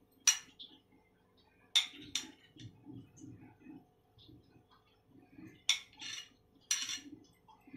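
Cut mango cubes dropping into a mango shake, giving a few sharp clinks and taps of fruit and utensil against the container, spaced irregularly, with soft rustling and handling noise in between.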